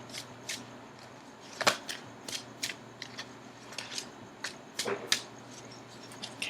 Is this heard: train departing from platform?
no